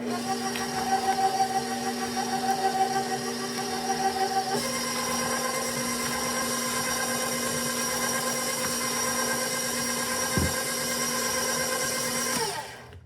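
An electric mixer beating eggs into a butter and sugar mixture for a caramel pound cake, a steady loud motor whine that shifts pitch partway through, then cuts off near the end.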